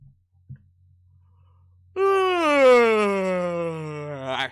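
A single long, drawn-out human yawn, loud and close, rising sharply and then sliding slowly downward in pitch for over two seconds, preceded by near silence and a soft tap.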